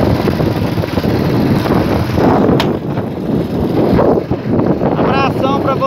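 Riding a motorcycle on a country outing, with a steady, loud roar of wind buffeting the microphone throughout. The engine is buried beneath the rushing air.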